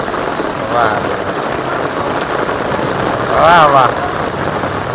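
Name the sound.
heavy monsoon rain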